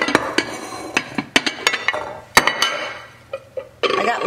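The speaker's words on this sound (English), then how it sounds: "I'm gonna get my pan here." A metal pan clanks and knocks in a kitchen while sweet potato casserole is being made, giving several sharp close clinks and thuds with short pauses between them.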